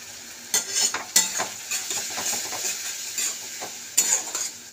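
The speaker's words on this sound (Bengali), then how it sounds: "তো মশলাটা কষা হচ্ছে" Ginger garlic paste fries with onions for an egg curry, giving a loud, steady sizzle broken by scraping stirs of a spatula against the pan.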